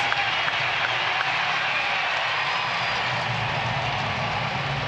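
Ballpark crowd at a Kansas City Royals versus Texas Rangers game erupts after a Royals run, a loud, sustained wall of cheering and applause filling the whole stretch with no pause.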